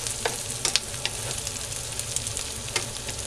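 Ingredients frying in a pan until crispy for a Kerala nadan beef curry, a steady close hiss of oil with scattered sharp pops and crackles and no talk.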